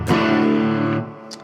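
Distorted electric guitar through a Neural DSP John Mayer X plugin with the FET front boost engaged: one sustained, saturated chord rings loud for about a second, then cuts off, followed by a brief faint scrape.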